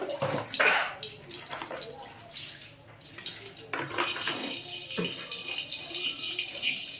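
Water from boiled taro drains off and pours steadily into a sink, a continuous splashing rush that runs close and loud the whole time.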